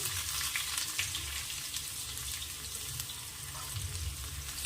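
Finely chopped small onion goes into hot oil with cumin seeds for a guar and potato vegetable dish, giving a soft, steady frying hiss at close range without any speech.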